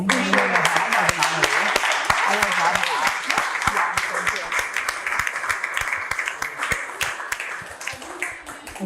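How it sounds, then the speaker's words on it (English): A final round of applause for a panel of Chicago real estate leaders, close crisp handclaps from a modest audience, steady then gradually thinning, with talking heard over the start. "One more final round of applause"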